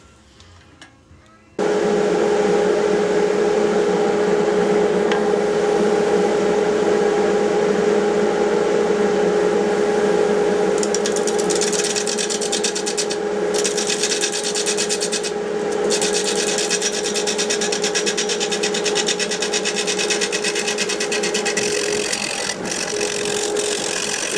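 Spalted oak turned between centers on a wood lathe, the motor starting abruptly with a steady hum and a continuous rasping, scraping cut that holds loud and close for the whole stretch, with brief gaps in the bright upper hiss.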